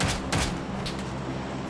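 Several sharp gunshot bursts in the mobile game New State crack out in quick succession near the start, followed by a quieter, scattered shot or two against a low background.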